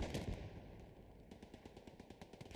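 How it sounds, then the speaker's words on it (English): Axis machine gun firing in Hell Let Loose, a faint distant stream of rapid rhythmic bursts with an opening volley, then a steady pattering run of shots. "Machine gun is coming up finally here from the Axis"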